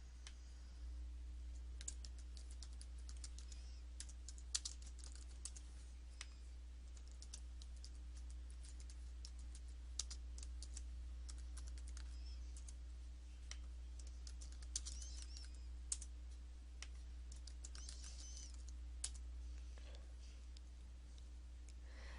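Steady typing on a computer keyboard while entering savings subcategories in budgeting software, quiet and close with brief clicks over a constant low hum; no one speaks.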